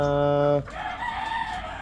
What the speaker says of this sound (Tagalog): nandyan na yung mga manok ko